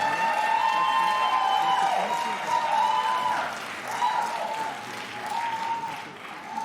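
An audience applauds warmly to welcome a speaker, a steady wash of clapping that swells and eases slightly over several seconds, with a faint voice underneath.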